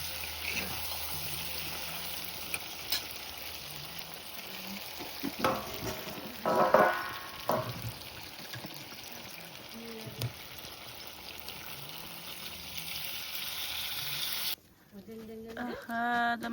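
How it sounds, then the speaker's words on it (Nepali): Meat boiling in a pot over the fire, a continuous bubbling, sizzling churn with occasional louder stirring clatter mid-way and faint voices in the background. "मासु पाके है, मजाले आगोमा उम्लिरहेको छ"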